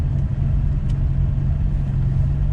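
A Nissan R34 Skyline GT-R on a road trip through Japan drones under way, its engine's steady low rumble close and loud from inside the car, with a slight rise in revs and no talk.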